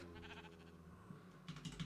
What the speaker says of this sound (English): Oh, brown sheep.